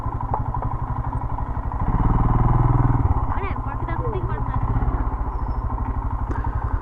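A motorcycle engine runs close by near Manichud outside Kathmandu as the bike is brought in to park, a low throbbing idle that swells louder for a moment midway and then settles back.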